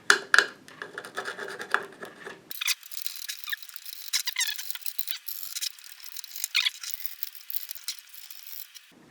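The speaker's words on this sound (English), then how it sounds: "I'm going to take a screwdriver just to like get all this black crap out of the way" A screwdriver scraping black debris off a circuit board from a KRK Rokit 5 Gen 2 studio monitor, with close, gritty scratching and squeaky strokes that run irregularly for several seconds after an initial clatter.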